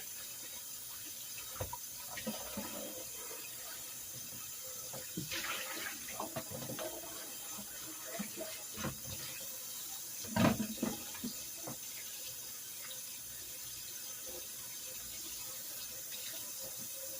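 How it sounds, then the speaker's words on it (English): Water runs steadily from a tap into a sink, a soft continuous splashing with a few brief clatters and knocks of objects nearby. "Now, I'm going to turn this water on."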